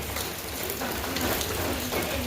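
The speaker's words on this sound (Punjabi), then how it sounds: "ਸੰਗਰੂਰ ਚ ਗੜੇ ਆ ਗਏ ਭਾਈ" Hailstones falling on a rooftop in Sangrur, Punjab, a dense steady patter and drumming of countless small impacts that continues without pause, close and fairly loud.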